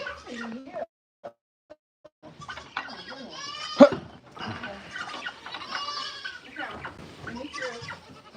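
Farm goats bleat close by in a morning pen, several overlapping calls, with a person talking among them.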